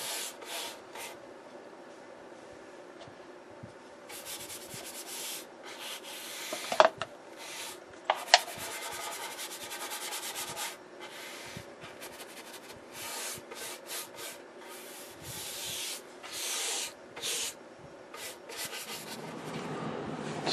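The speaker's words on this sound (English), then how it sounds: "Time to scrape off excess." Plastic painter tools scrape excess material from a RCA Radiola 60 radio during restoration, making repeated rough rubbing strokes up close with brief pauses and a couple of sharper clicks.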